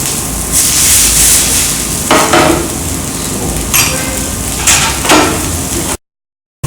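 Onion frying in desi ghee in a pan for a Rajasthani dish, a steady close sizzle with a few scraping stirs and utensil knocks over it, then a sudden cut to silence near the end.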